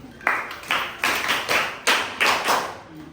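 A class claps in unison for a student, in a science lesson on light: about seven evenly spaced, loud, sharp group claps in a steady rhythm, with no talk over them.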